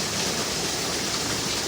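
Storm rainwater splashing and running under rabbit cages into a small flood, a dense, steady rushing wash of water without pauses, close and fairly loud, with no voices.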